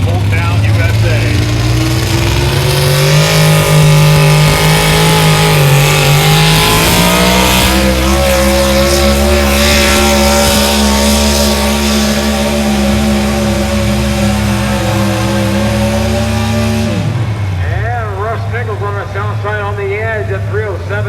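A pulling truck's engine roars loud and close during a truck pull, holding a strained, rising drone for a long stretch before dropping off sharply near the end.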